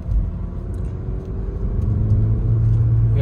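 Manual car engine gaining revs as gas is applied after the clutch is released, a steady low rumble that swells slightly louder toward the end, heard from inside the car.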